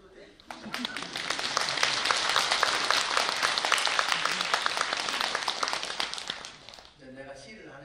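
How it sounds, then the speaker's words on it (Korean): Congregation at a Sunday Buddhist dharma service at Bongeunsa temple breaks into loud, sustained applause of many hands, swelling and holding steady for several seconds before tapering off as a voice begins to speak. "박수 한번 쳐도 돼?"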